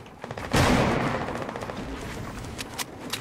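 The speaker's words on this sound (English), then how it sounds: "Still shooting at us, though?" Fortnite gunfire from a firefight near Tilted Towers, a sudden loud blast followed by a sustained rumbling roar, then scattered sharper shots and cracks further off.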